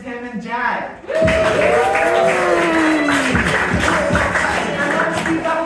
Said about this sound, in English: let's keep that applause going for our wonderful doctors and nurses